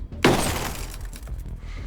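Bulletproof glass shatters in Ghost Recon Breakpoint with a loud sudden crash, followed by a long rumbling, crackling wash of breaking debris that slowly fades out.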